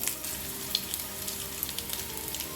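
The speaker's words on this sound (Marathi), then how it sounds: "तेल छान तापल्यानंतर हे सगळे कटलेट्स एकदम लो फ्लेमवर आपल्याला हे फ्राय करून घ्यायचे आहेत" Green veg hara bhara kabab cutlets shallow frying in hot oil over a low flame, a steady close sizzle with small crackles throughout and no talking.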